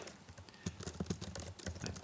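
Keys tapped on a computer keyboard while entering R commands, a quick run of light, irregular clicks, fairly close and unaccompanied by talk.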